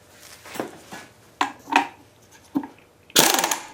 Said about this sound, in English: so we're going to use the air gun.